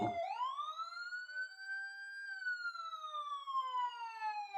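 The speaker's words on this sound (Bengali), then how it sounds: "হঠাৎ বাড়ির বাইরে পুলিশের সাইরেনের শব্দ।" A police siren wails steadily, its pitch rising then slowly falling in a long sweep, loud and clear with no voices.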